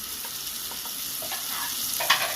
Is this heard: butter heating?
yes